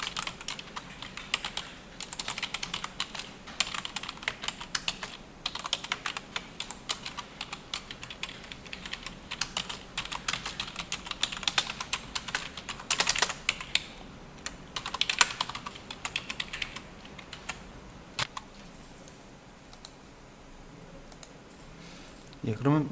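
Steady clacking on a computer keyboard, quick bursts of keystrokes and clicks continuing throughout at close range, with someone talking quietly over the typing.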